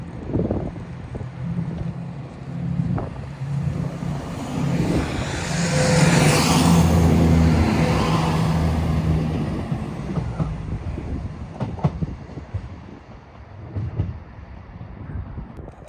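An East Midlands Railway train, unit 170504, pulls out of Peterborough station on the East Coast Main Line toward Lincoln Central, a steady rumbling drive with rising whine that swells at the midpoint and eases off, with wind buffeting the microphone throughout.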